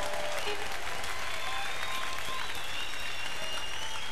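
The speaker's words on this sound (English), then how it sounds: "Let's give Long John a round of applause" A blues festival crowd applauds Long John Hunter on stage in Chicago, with loud, sustained, even clapping filling the whole moment and a few whistles riding over it.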